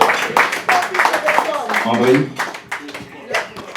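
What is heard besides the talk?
audience applause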